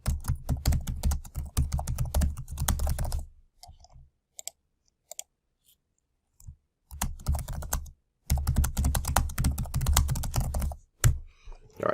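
Typing on a computer keyboard, close and steady, in bursts of rapid key clicks separated by a few seconds of near silence, with a few isolated taps in the pause.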